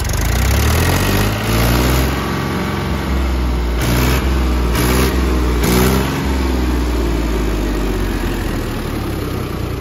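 A Mahindra 275 tractor engine runs steadily and loudly up close, a low throbbing idle with a few brief revs in the middle, no talking.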